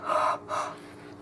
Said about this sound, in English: Breathe on it.